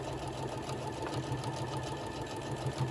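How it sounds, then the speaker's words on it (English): A sewing machine runs steadily up close, stitching an 11-inch fabric bowl koozie in one continuous, even mechanical whir with no pauses or talk. "And I'm gonna go over here, keep sewing the rest of the way"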